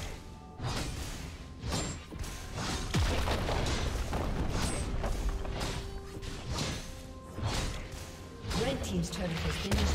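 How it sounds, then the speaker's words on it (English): A League of Legends turret collapsing in a Korean Diamond match, heard as heavy booms and crashing impacts amid busy game effects and announcer speech, loud and sustained throughout. "Red team's turret has been destroyed."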